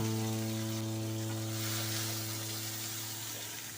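Chopped tomatoes dropped into hot ghee with garam masala, a broad close sizzle and hiss that stays loud and slowly tapers over a few seconds beneath a low steady hum.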